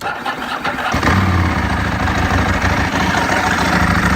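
A Ducati 996 motorcycle engine starting from cold with the fast idle engaged: a brief cranking, then a loud catch into a rough, rapid-firing idle that holds steady and close.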